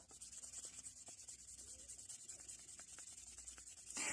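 Sandpaper rubs steadily on a dirty, scratched screwdriver during a restoration, making a faint, continuous close-up scraping hiss that rises slightly at the end.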